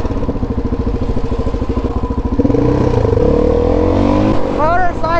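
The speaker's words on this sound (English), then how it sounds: "I see a motorcycle." A Honda CBR600RR motorcycle engine roars nearby, its pitch climbing as it revs and passes, loud and continuous over a rumbling city road.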